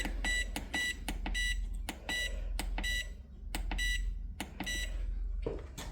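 A new Whubefy heat press timer sounds a string of sharp, high electronic beeps in irregular bursts, close and loud over a low steady hum.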